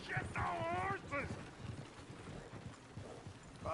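Horse hooves clip-clop in Red Dead Redemption 2 amid a chaotic outdoor scene near a coach, with a voice speaking and hollering over the steady hoofbeats.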